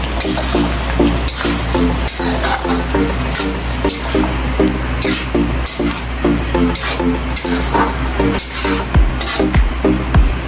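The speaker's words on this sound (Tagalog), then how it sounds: "Haluin lang natin guys." A spoon stirs pork menudo with pineapple in a hot pan, with a loud continuous sizzle and frying hiss punctuated by scraping and light clinks of utensil against metal, close up and without voices.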